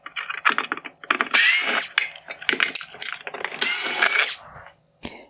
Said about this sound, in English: I will begin by removing the T10 torx screws holding on this bezel.